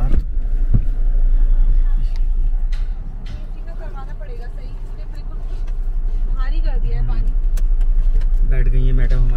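Car engine idling steadily under an outdoor trip start in hot weather, a low continuous rumble running throughout while people talk and other noises come and go over it.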